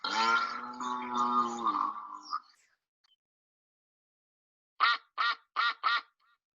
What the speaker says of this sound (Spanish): Y el pato.